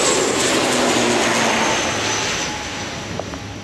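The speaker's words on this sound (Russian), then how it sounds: "О, самолет на посадку пошел." A Cebu Pacific airplane descends to land, heard as a steady broad jet roar that fades slightly as it passes, fairly loud and with no talk.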